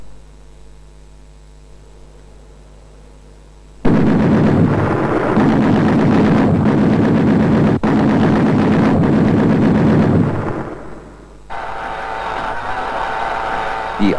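Automatically loaded 73 mm cannon on a BMP infantry fighting vehicle firing: a loud, sustained blast and roar lasting several seconds with one sharp crack midway, fading out, then a second burst of noise.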